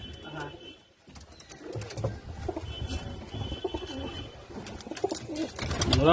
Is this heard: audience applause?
no